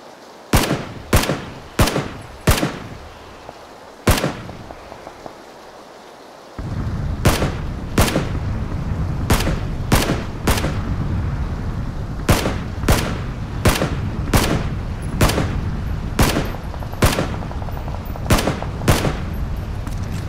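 Gunfire in the PUBG video game, a long series of sharp, loud single shots at a fairly regular spacing, first against quiet and then over a steady background rumble, with no talking.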